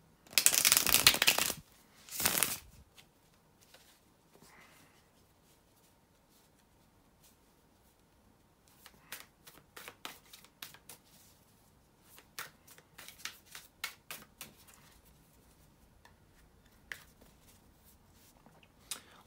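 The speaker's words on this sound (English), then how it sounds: "bear with me a second, guys, to shuffle the tarot cards" Tarot cards being shuffled by hand: two loud riffle bursts at the start, then after a quiet pause a long run of soft, irregular card taps and flicks, close by and without talk.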